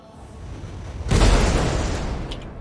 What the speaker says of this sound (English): let's see how many missiles this thing can shoot